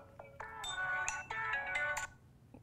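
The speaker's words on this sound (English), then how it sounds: "That was my phone calling me." A mobile phone ringtone plays a bright, quick electronic melody of rising and falling notes, moderately loud and close, with no talking over it.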